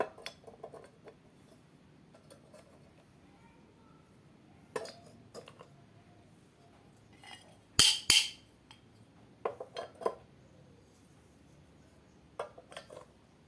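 Iron plate mold pieces, about 2 mm thick and cut like puzzle pieces, for making an L8 roster block clink and clatter in a few sharp metallic bursts, with quiet stretches between the handling sounds.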